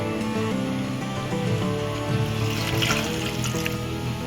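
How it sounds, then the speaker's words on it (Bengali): A bowlful of water is poured over washed sago in a bowl, giving a steady, close trickling and splashing that runs continuously at moderate volume. "তাই আমি এই বাটিটা এক বাটি জল দেবো"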